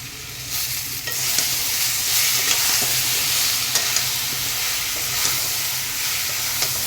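Cumin, chili and ginger paste with tomato fry and get stirred in hot oil in a pan for a potato and fish curry, a loud, close, steady sizzle with occasional scraping clicks throughout.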